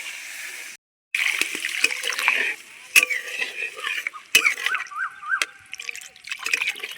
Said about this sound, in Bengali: মশলা কষানো হয়ে গেছে তেল ছাড়তে শুরু করে দিয়েছি এবার আমি জল দিয়ে দেবো